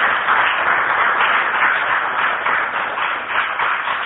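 A crowd at a church service applauds steadily, a dense wash of clapping that continues throughout without any speech.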